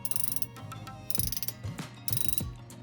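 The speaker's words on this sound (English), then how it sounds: "Drag sound comparison." Drag on a 2023 Shimano Vanquish spinning reel, an MGL-series flagship, clicking in three quick bursts of rapid ratcheting, close and fairly clear, with short pauses between the runs of clicks.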